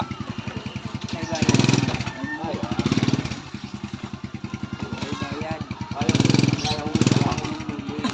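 A nearby motorcycle engine chugs steadily with a low, pulsing rhythm, rising briefly in a few short surges, while people talk over it.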